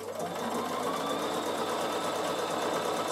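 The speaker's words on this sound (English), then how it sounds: "So now I'm going to stitch around my next curve, and you can see what zigzag looks like." A Bernina sewing machine runs a zigzag stitch around a curve on wool felt, a close, continuous whirring hum with a fast even pulse that holds steady throughout.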